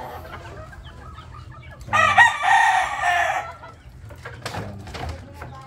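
Chickens on a chicken farm squabble and fight. Scattered clucks lead into a sudden loud burst of squawking that lasts about a second and a half, then trailing clucks and chatter follow, with occasional talk nearby.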